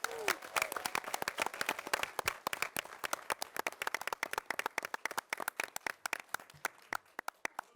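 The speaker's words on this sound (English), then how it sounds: "Let's give a massive round of applause to the incredible girls passers team." Clapping for a girls soccer team at a city council meeting, a room of hands striking in a brisk, uneven patter that thins out toward the end, fairly close and moderately loud.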